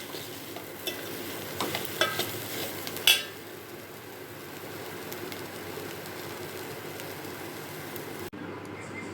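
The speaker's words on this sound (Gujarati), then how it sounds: "આ રીતે આપણે હલાવીએ એટલે મસાલા છે તે બધા રોટલામાં ભૂકાની સાથે એકદમ ચડી જાય." Crumbled millet rotlo tossed with spices in a pan, a low continuous sizzle with several scraping stir strokes early on, close and fairly quiet, the stirring fading after a few seconds while the frying hiss continues.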